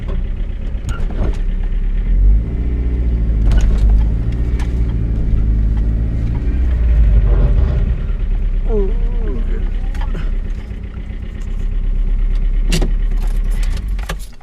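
A Mazda Miata engine idles with a deep rumble, then revs up and settles in a few swells, loud and close, with jangling and brief talk.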